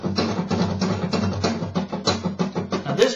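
Fast flamenco guitar strumming, a first finger flicking down and up across the strings in a rapid, even, continuous rhythm of bright chord strokes, close and clear with no talking.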